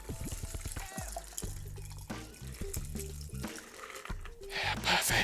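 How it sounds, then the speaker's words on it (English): Mango rum cocktail strained from a shaker into a highball glass, a close trickle and splash of liquid with clinks of ice and glass, brief background voices, ending in a brighter rush of pouring. "But I'm just going to strain this just over the highball."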